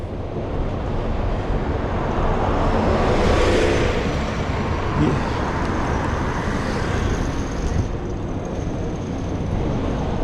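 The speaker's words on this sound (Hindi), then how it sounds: "यहाँ इतना ट्रैफिक चल रहा है" Steady street traffic rolls past in Bromley, London, a continuous moderate rumble of passing cars with no horns, heard alone without talk.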